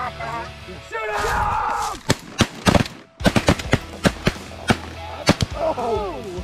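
Shotguns fire during a goose hunt, a rapid volley of sharp, loud, close blasts with several shooters overlapping, followed by more scattered shots, while geese honk and hunters shout.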